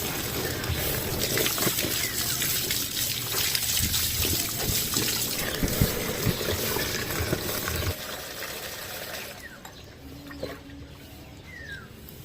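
Water being poured into an improvised bucket at a beach campsite in Calatagan, Batangas, a loud continuous splashing trickle that eases off near the end, with no talking.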